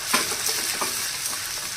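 Spiced yogurt goes into a pan of cooked onions and is stirred, giving a dense, steady sizzle and frying hiss with soft stirring strokes, close and without talk.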